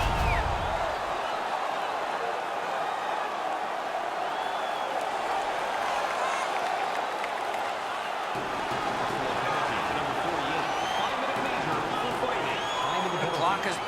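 A home crowd at a hockey arena roars after a fight, a dense sustained wall of cheering and clapping that holds steady throughout, with a play-by-play voice talking over it.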